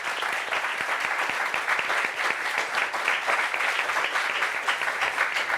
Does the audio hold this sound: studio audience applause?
yes